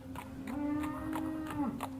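A herd of cattle moos in a low, drawn-out call that holds steady and then bends downward, with fainter overlapping calls and soft rustling from the herd behind it.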